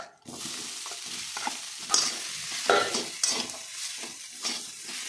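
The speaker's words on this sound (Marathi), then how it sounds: "सगळं हे थोडं परतून घ्यायचं आणि त्यामध्ये मॅश केलेले बटाटे घालायचे." Spiced mashed potato filling with turmeric and salt sautéed in a pan, a soft sizzle under repeated scraping and stirring strokes of a spoon against the metal, no speech.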